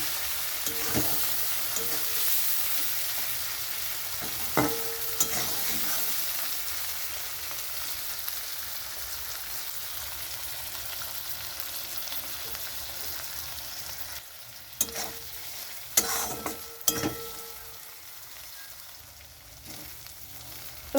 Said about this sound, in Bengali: তো এখানে কিন্তু মাছের তেলটা ভাজা হয়ে গেছে, দেখুন।